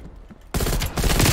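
Automatic sentry turrets in a video game open fire in a sudden loud burst of rapid shots after a quiet start, with a brief dip before the barrage resumes just as intensely.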